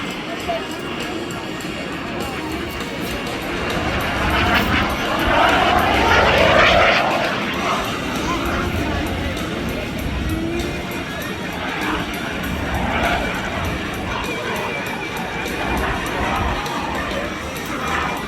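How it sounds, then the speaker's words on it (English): A jet flying at the Wings Over Wayne airshow at Seymour Johnson, 2025, a broad continuous engine roar that swells and fades over crowd noise, with an announcer speaking over it throughout. "As beautiful as this jet is"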